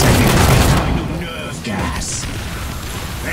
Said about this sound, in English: I'll have some grenades and finish you.